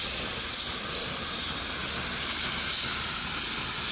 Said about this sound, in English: it's spraying really nice now because I just flushed it out